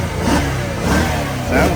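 A 2007 Mercedes-Benz SL550 V8 revs on a cold start, climbing in three rising surges close by, with a voice speaking over the engine noise.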